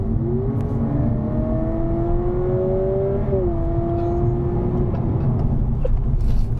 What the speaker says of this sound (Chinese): 现在我们来听一下 Sport mode 的假的 engine 声啊